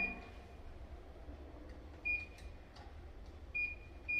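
A door keypad emits short electronic beeps as a code is entered, a few brief high tones at separate moments over a quiet room hum.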